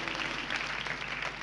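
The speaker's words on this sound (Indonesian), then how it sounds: "Berikan tepuk tangan bagi Tuhan Yesus." Congregation clapping during a church sermon, a steady dense patter of many hands filling the room without pause for a short burst.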